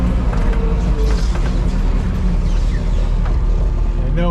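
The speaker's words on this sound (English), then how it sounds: "I'm throttling up." Kubota tractor engine left out in the cold for a week, throttling up to a steady, loud, close drone with rumbling low roar and wind buffeting the microphone.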